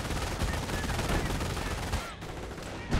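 Anti-tank cannon fire from the strategy game Company of Heroes, a dense, loud barrage of booming shots and battle noise running throughout, with a brief dip near the end before another blast.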